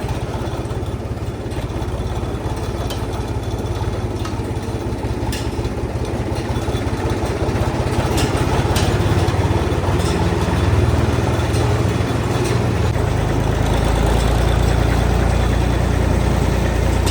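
An International tractor engine runs steadily up close on a farm field, a continuous low, throbbing rumble that barely changes for the whole stretch.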